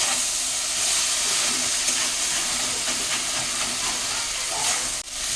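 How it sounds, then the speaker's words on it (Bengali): Fish fried with spice paste sizzle loudly in a pan, a steady close hiss that holds for several seconds and drops out briefly near the end. "মশলাটা দিয়ে ভালো করে মাছগুলোকে কষিয়ে নেব।"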